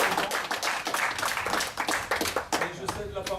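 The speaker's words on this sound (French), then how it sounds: "Je pense qu'on peut applaudir Albert et Patricia." At a football club's jersey presentation, an audience applauds Albert and Patricia with irregular, moderately loud clapping, and voices can be heard alongside it.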